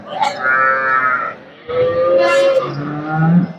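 A Jersey cow at a busy cattle market gives two loud, close, drawn-out moos, the second rising and falling before trailing off, separated by a brief pause.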